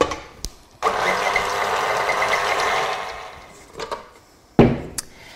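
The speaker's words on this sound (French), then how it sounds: "je préfère pétrir au robot, c'est moins long et surtout moins fatigant" Food processor kneading pizza dough, a loud steady motor whir that runs for a few seconds, then stops, followed by a couple of sharp clunks and knocks.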